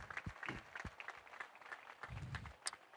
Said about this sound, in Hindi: सब मिलकर इनके लिए ताली बजाएं।